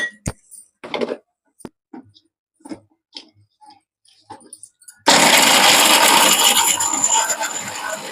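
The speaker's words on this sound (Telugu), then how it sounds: "మనం బాదం పప్పు మిక్సీకి వేసుకోవాలండి" A few light clinks and taps, then a mixer grinder grinding almonds roars on abruptly and whirs loudly and steadily to the end.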